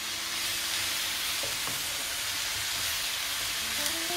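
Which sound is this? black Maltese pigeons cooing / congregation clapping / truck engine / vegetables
vegetables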